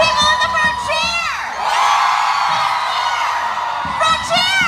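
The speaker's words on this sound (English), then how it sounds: "People in the back, cheer! People in the front, cheer!" An audience at a women's event cheers on cue, first the back section and then the front: loud bursts of shouting, whooping and screaming from a large crowd, each swelling and fading, with a voice calling out between them.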